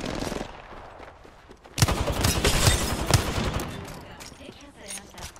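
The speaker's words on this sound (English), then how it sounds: "I hate shooting at Valkyrie" Rapid automatic gunfire from an Apex Legends firefight bursts in loudly after a quieter start, sustained rattling shots with sharp peaks, while a player talks over it.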